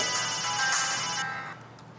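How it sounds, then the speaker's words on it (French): A telephone ringing on a reality TV show set in a loft: a steady electronic ring fills the first second and a quarter, then fades out, with no talk over it. "Le téléphone sonne et une fois de plus, je réponds."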